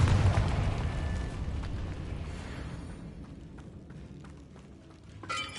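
A Confringo explosive spell in Hogwarts Legacy, a loud booming blast at the start that rumbles and fades over several seconds, then a smaller burst near the end.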